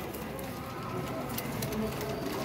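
Soft coos from pigeons, including a Teddy pigeon, sound amid a busy, noisy background, low and repeated, with the birds fairly close.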